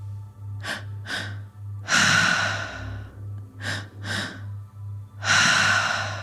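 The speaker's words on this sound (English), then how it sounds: "going ahead and starting that tri-active breath" Tri-active breathing exercise: rhythmic pairs of short sharp inhales followed by a long forceful exhale, repeated twice, close and clear over a steady low pulsing tone.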